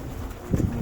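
Pigeons coo in a loft in a short, soft burst that rises near the end, close by with no talk.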